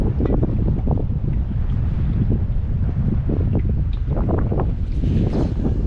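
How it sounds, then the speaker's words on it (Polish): Steady, loud wind roars and buffets a microphone outdoors, with a continuous low rumble and no voices. "Jest już wiatr, więc nie jest fajnie."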